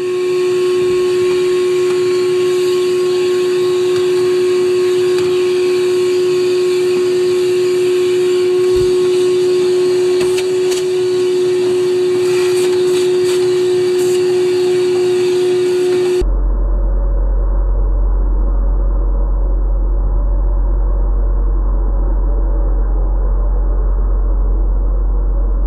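Air blows dust out of the inside of a desktop computer as a steady, loud hiss with a faint whine, continuing unbroken before shifting abruptly to a duller, lower rush.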